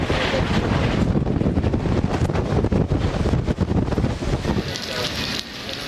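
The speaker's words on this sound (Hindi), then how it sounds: "जुड़वा शहरों रावलपिंडी, इस्लामाबाद में तेज़ हवाओं के साथ बादल बरस पड़े" Strong wind gusts with rain in Rawalpindi and Islamabad roar and buffet the microphone continuously, loud and close, easing slightly near the end.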